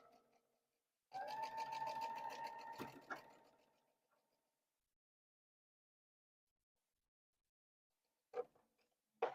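Sewing machine with a quarter-inch foot stitching a split quarter-square-triangle quilt block: a close rapid whirring run of about three seconds, then quiet, and short bursts again near the end.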